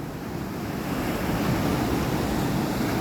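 Ocean surf washes steadily onto a rainy beach, a broad rushing roar that swells slightly and holds, with wind buffeting the microphone and no voices.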